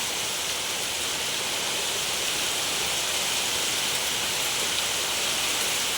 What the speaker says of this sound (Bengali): প্রচুর পরিমাণে বৃষ্টি হচ্ছে এখানটায়